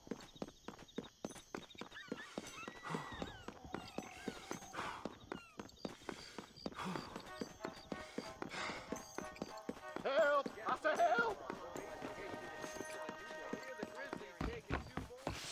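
Horse hooves clip-clop in Red Dead Redemption at El Presidio: a brisk, close, steady clatter of hoofbeats that continues throughout, mixed with other game sounds and a brief whinny-like cry.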